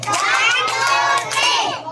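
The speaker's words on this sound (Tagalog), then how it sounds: "Group 2, pumalakpak kayo kapag tapos na" Grade 1 schoolchildren in a classroom clap their hands together, a loud, dense burst of clapping mixed with excited children's shouts and chatter throughout.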